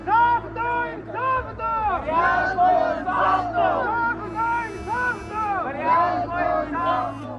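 A crowd of protesters chants slogans in loud, rhythmic unison outdoors, repeated shouted phrases swelling and falling over a low steady hum, with other voices mixed in.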